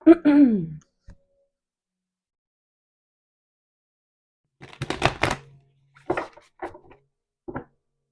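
Tarot cards are handled and shuffled in a quiet room, giving a few short bursts of papery riffling and soft clicks after a brief sigh-like voice sound at the start.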